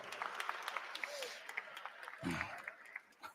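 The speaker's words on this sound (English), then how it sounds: "please give my coaching staff a round of applause also" A high school audience gives scattered applause for the coaching staff, a faint patter of individual claps, with a voice and crowd murmur breaking through partway.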